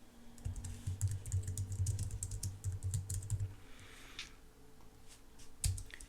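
Code is typed on a computer keyboard in quick, close, soft clacking bursts, with a slight pause before a final few keystrokes and no talking.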